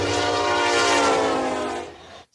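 Passing train sounding its horn: a loud, sustained chord-like blast over rumbling rail noise, which fades and then cuts off abruptly near the end.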